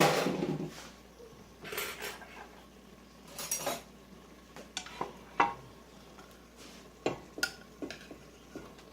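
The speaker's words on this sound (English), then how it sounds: "I'm going to throw some rice in there." Already-cooked rice is tossed into a pan with ground beef and stirred with a utensil, giving scattered scraping and clinking taps against the pan over a faint sizzle.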